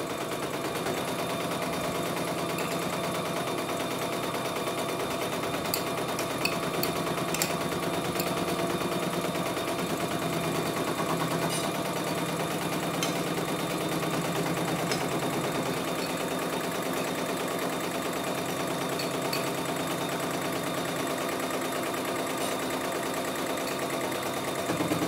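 A cheap embroidery machine runs steadily, stitching with a continuous mechanical whir and faint rapid needle clatter for about 25 seconds, fairly quiet and with no talking.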